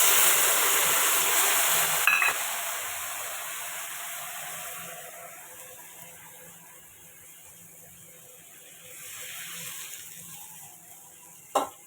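Mustard paste and turmeric tipped into a pan of frying fish set off a loud, close sizzle that slowly fades over several seconds, with a brief clatter near the start and a sharp knock at the end.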